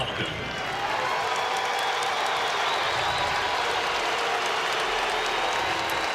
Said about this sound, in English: Kind of a mixed reaction from the crowd at Chase last night